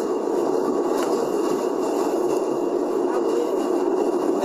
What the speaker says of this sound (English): This is a New York City subway.